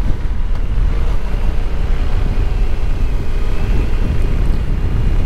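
A Yamaha Tracer 700 motorcycle rides through town in second gear, its steady low engine drone blended with heavy wind rush on the microphone, loud and continuous.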